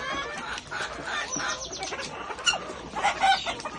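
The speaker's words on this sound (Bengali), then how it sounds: "এই যে মুরগিগুলা দেখতেছেন এখন ডিম দেওয়ার জন্য হ্যাঁ ই করতেছে।" Laying hens on a farm clucking and calling in a busy, continuous chorus at close range, with a few sharper squawks and no talk.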